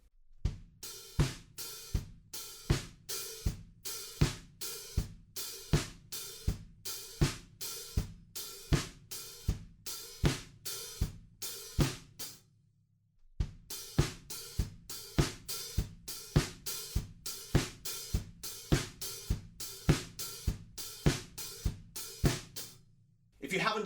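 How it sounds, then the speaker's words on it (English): Drum kit playing the verse of a song, with steady offbeat hi-hat sizzles over kick and snare in a driving rhythm, close and loud, with a brief pause near the middle. "this is where we're playing offbeat hi-hats right before we go into the chorus"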